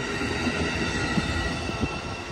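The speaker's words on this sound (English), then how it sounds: "this train is headed towards your hometown" Amtrak California Zephyr passenger train led by two ALC-42 locomotives rolling past at Richmond station, a loud steady rumble of cars with wheel squeal and a few clunks, nearby and without voices.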